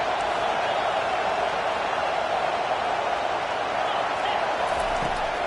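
Stadium crowd at a football game, a dense continuous roar of many voices filling the space, steady and loud throughout with no break.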